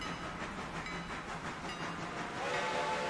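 A passenger train in the railway game Railroader rolls past with a steady rumble of wheels and cars, growing a little louder toward the end.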